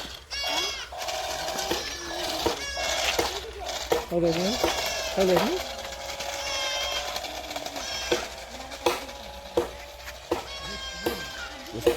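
A goat bleats again and again outdoors in wavering, nasal cries, some long and some clipped, while people talk and call out nearby.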